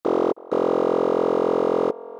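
Long, steady FM synthesizer notes held for over a second each, bright and buzzy, with a brief dip between them and a softer tone at the end.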